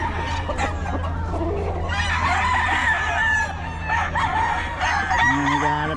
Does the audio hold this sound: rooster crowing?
yes